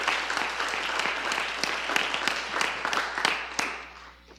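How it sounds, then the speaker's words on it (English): An audience at a school board meeting claps for a student salutatorian, a dense sustained round of applause with sharp individual claps standing out, fading toward the end. "let's give some round of applause for Anna K."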